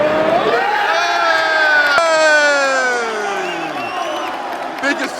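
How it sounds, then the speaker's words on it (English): A football stadium crowd at Crystal Palace roars in one sustained, loud cheer for a red card in an FA Cup match against Everton, the wall of voices swelling and then slowly fading. "Biggest cheer you're going to hear all night, right now."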